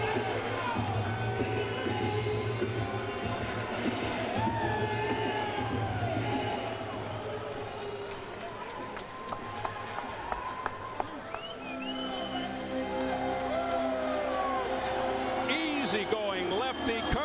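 A boxing arena crowd at a WBO welterweight title defense by Carlos Quintana murmurs and stirs steadily with scattered claps and shouts, running under continuous commentary.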